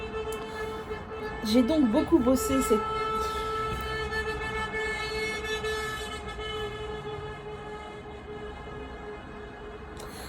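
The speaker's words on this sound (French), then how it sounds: "ça klaxonne encore en mariage" Car horns honking in a wedding procession, sounding as steady, sustained tones that carry through the whole stretch at moderate distance, with a person speaking briefly over them near the start.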